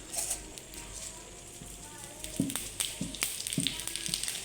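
Hot oil in a kadai sizzles steadily with a few sharp crackles and pops as bay leaves hit the pan, close by, with a voice speaking over it.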